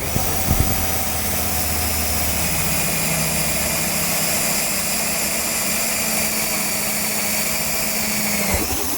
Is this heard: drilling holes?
yes